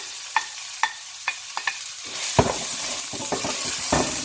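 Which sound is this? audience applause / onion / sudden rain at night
onion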